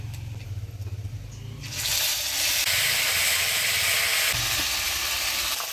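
Cumin and ginger paste tipped into hot oil in a pan cooking winter vegetables: after a quiet stretch of low rumble, a loud, steady hiss of sizzling bursts in and keeps going close up, with no talk.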